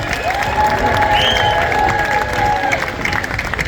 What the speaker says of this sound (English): how about one last round of applause for the stars of our show?